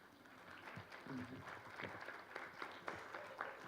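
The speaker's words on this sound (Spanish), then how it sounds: "te vamos a brindar un fuerte aplauso desde México" Audience applause at an international forum on obesity policy in Mexico, moderate steady clapping heard somewhat distantly, with faint voices beneath.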